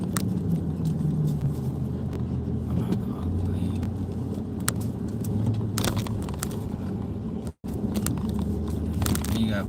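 Low, steady rumble of a big pickup truck engine idling and creeping while hunting for a parking spot, continuous and close, with faint clinks and rustles and a brief dropout near the end.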